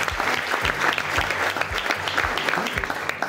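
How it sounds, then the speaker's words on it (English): A wedding reception room of people claps steadily, a full round of applause at moderate volume with no voices rising above it. "round of applause, definitely, definitely needed."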